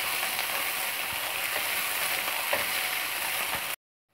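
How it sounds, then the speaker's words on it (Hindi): Chopped onion and green chillies sizzle and crackle steadily in a hot pan while being stirred, a close, dense frying hiss with small scrapes that ends abruptly into silence. "मैं इसमें प्याज हरी मिर्च डाल दूंगी, और लगातार चलाते हुए इसको 3 से 4 मिनट भून लूंगी प्याज को"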